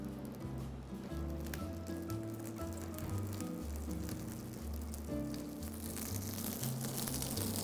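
Asparagus sizzles steadily in a hot pan, a dense, constant crackle of frying that runs the whole time with soft background music beneath it.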